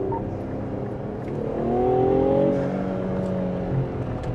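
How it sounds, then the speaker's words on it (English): Performance exhaust on a 2022 Infiniti Q60 Red Sport I-Line with a twin-turbocharged 3-liter V6 rumbles steadily up close, swelling into a louder rev midway before settling back to a throaty idle. "You have this performance exhaust here"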